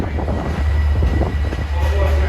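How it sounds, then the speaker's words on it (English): Long Island Rail Road Babylon local train departing Jamaica station, a loud continuous rumble of rolling cars mixed with heavy wind buffeting the microphone. "There goes 158, the Babylon local."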